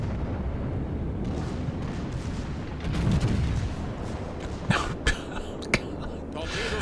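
The Bismarck's secondary guns fire in World of Warships, sharp muffled booms punching through a continuous rumbling battle din, with a few louder cracks near the end.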